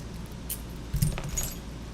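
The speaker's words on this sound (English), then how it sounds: "I've got two different sets of keys." Two different sets of keys jangle close by, a short metallic rattle that swells for about half a second before settling, with brief clinks around it and no talk.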